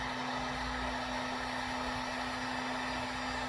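A heat gun set on low blows steadily on powder paint coating a lead piece, a continuous close fan-and-airflow hiss with a fixed motor hum and no talking.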